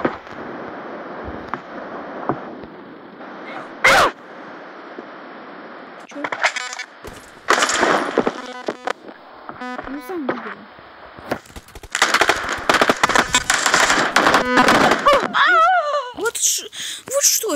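Gunfire in PUBG Mobile, a sharp shot early on, then clusters of rapid cracking shots and bursts, with game noise and a voice mixed in.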